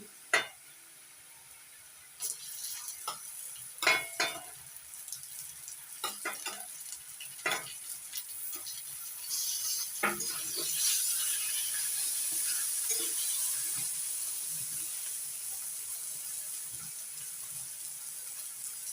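Chopped onions and ivy gourd fry in a pan, with a steady sizzle that swells and holds strong in the second half, broken by sharp clinks and scrapes of stirring.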